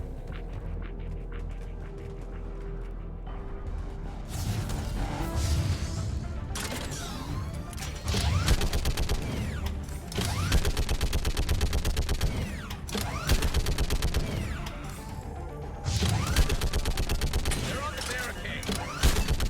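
Mounted gun in Mass Effect 3 firing at Reapers, long loud bursts of rapid automatic fire with explosions and mechanical clatter, and speech heard over the combat.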